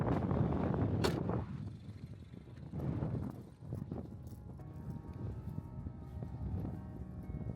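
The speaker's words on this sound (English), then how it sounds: "We are gradually getting tired from the strong wind." Strong wind buffets the microphone during an outdoor photoshoot in a storm warning, making low, rumbling gusts that surge and ease over several seconds, fairly faint overall.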